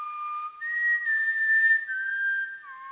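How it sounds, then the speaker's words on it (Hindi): A person whistles a sustained, clear tune of a few drawn-out notes, close and alone with no talk. "तुम ये सीटी क्यों बजा रहे हो?"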